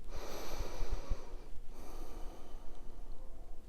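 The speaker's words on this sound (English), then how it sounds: "And then breathe into the abdomen." Exaggerated diaphragmatic breathing into the abdomen while seated, with close, audible nasal inhales and long airy exhales, several rough sniffing pulses at the start, then a slower, softer breath.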